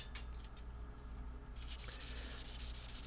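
Steady back-and-forth rubbing of sandpaper on a Chet Atkins Nashville guitar neck, close up, starting soft and growing louder and more rhythmic midway through.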